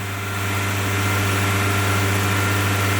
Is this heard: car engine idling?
yes